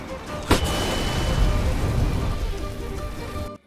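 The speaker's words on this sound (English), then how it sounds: "Deploying flashbang." A flashbang grenade going off in a video game, a sharp bang that breaks into a loud, sustained hiss and ringing wash that fades slowly before cutting off.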